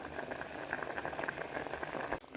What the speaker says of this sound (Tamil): நம்மளோட மண்டி வந்து வெங்காயம், பச்சை மிளகாய் மண்டி வந்து நல்லா அந்த மாதிரி கொதிச்சுட்ருக்கு.